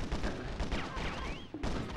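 Dense video-game gunfire from a battle shooter, rapid overlapping shots close and loud throughout, a brief dip before the barrage resumes, with whistling streaks mixed in.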